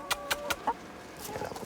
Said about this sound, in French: ramasse les œufs de ses poules